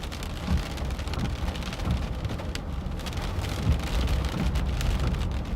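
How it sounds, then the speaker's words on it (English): Heavy rain and rumbling thunder in a severe thunderstorm during a Corn Belt weather outbreak, heard from a moving vehicle on a highway, with a dense, steady downpour and low rolling thunder throughout. "That was some big thunder right there."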